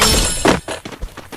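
A sudden loud grenade blast in the video game Free Fire, with a shattering, crunchy burst of debris, followed by a few scattered thuds as it dies away quickly.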